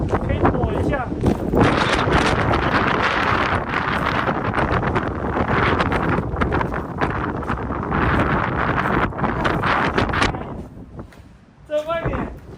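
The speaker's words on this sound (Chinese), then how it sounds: "这个风力啊马上就变大了" Strong wind in the Xinjiang desert on the way to Lop Nur, roaring and buffeting the microphone almost nonstop. It eases briefly near the end before a final gust, and a voice talks over it.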